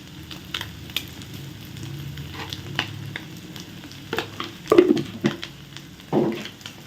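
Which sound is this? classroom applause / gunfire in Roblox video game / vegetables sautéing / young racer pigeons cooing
vegetables sautéing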